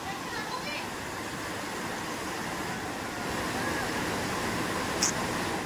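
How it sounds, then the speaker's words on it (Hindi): Constant rushing water of the Barua Sagar waterfall near Jhansi, India, a steady even roar close by, with faint voices in the background. "मस्त झरना"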